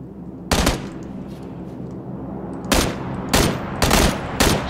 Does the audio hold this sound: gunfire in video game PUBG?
yes